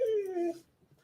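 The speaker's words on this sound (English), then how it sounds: "Sorry about my dogs, guys. They're just being spoiled." A dog lets out one high, drawn-out whimper that slides downward, close and clear, then trails off into quiet.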